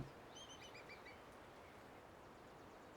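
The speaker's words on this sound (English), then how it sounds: "Bird." A few faint, brief bird chirps sound early on over a steady low background hiss, then fade away.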